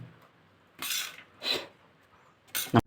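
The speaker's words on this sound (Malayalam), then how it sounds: "ഇനി നമുക്ക് ഈ സലാഡെല്ലാം ഇതിലേക്ക് മാറ്റാം" Salad being moved into a container of shake, heard as three short close bursts of utensil scraping and clinking against the dish, with quiet pauses in between.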